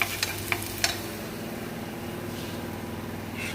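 Ginger sautéing in a pan for tuna dish gives a continuous close sizzle and hiss, opening with a few sharp clicks of a utensil against the pan.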